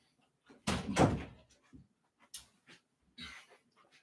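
A door swings shut with a single solid thump, set among a few other short knocks and bumps in an otherwise quiet room, with a dog panting and whimpering nearby and no voices.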